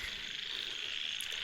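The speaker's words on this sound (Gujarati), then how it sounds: "અને દેડક્યા બોલે છે." Frogs croak in a dense, continuous chorus from a waterlogged residential street after rain, steady and fairly loud with no talking over it.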